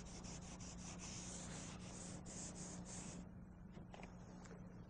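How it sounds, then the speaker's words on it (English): Bondo glazing and spot putty on a car body is sanded down in close, loud rhythmic strokes. The steady rubbing pulses through the first part, then eases to lighter, scattered scrapes, with no voices. "We'll be sanding off what we don't need here"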